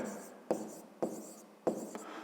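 Pen or marker strokes on paper or a board while a math problem is written out, three distinct taps at the start of strokes followed by scratchy writing, fairly close, with a faint background hum and no talk.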